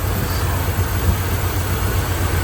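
A 1979 Dodge Ramcharger with its original-type carbureted engine idles steadily and loudly nearby, producing an even, continuous rumble with no talking.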